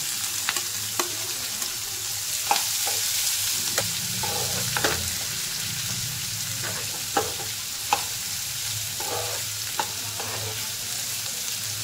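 Finely chopped onion sautés in a pan with four slit green chillies for a spicy tomato bhaji, a steady close sizzle broken by spatula scrapes and taps, with no talking.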